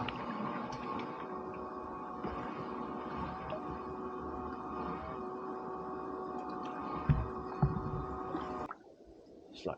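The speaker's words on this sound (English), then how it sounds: "There goes the pump again." A small fishing boat's pump runs on a calm sea with a low, steady mechanical hum and throb that cuts off abruptly near the end, leaving quiet water sounds.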